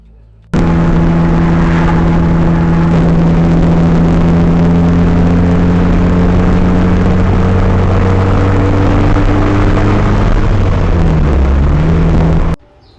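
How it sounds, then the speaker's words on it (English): Car with a loud exhaust driving with the windows down, recorded through an AZDOME M300 dash cam: a loud, continuous engine drone with rising and falling rev tones and wind rush for about twelve seconds, no talking. "I was driving around with the windows rolled down because I don't have any AC on the car, and also I have a loud exhaust"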